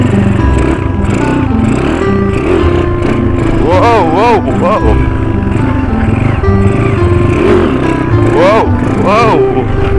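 Motorcycles rev hard on a group chill ride to Mt. Sirat, with a loud, continuous engine drone that swells in rising throttle bursts during wheelies, while riders talk and shout over it.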